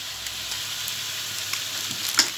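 Ginger mixture frying in oil in a pan, a steady crackling sizzle with a few soft scrapes of stirring and one sharper clink near the end.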